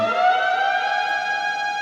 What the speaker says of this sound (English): I have a siren.